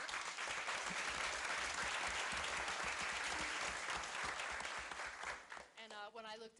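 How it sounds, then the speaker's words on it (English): A large audience applauds at a school board meeting, honouring students from Forked River School; dense, loud clapping fills most of the stretch before tapering, and a voice begins speaking near the end. "So a round of applause to them."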